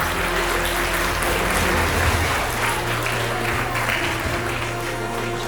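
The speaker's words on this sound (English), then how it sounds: "Let's have a huge round of applause for these children" A crowd applauds children at an evening Gita chanting competition award ceremony, dense continuous clapping filling a hall at an even level throughout.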